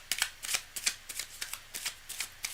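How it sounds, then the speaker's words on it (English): A deck of tarot cards is shuffled by hand in a quick, steady run of soft riffling flicks, close and fairly quiet, with no talking. "Cards are well shuffled."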